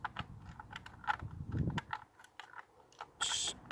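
A small bolt being threaded by hand into a Lexmoto Arizona 125cc motorcycle during an oil change, with quick irregular metallic clicks and light scraping taps, close and fairly quiet.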